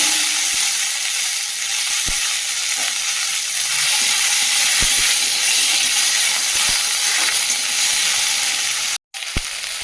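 Chopped onion, garlic and whole cumin seeds fry in hot oil in a wok for tilapia fish curry, making a loud, steady, close sizzling hiss with faint scattered ticks and a brief dropout near the end.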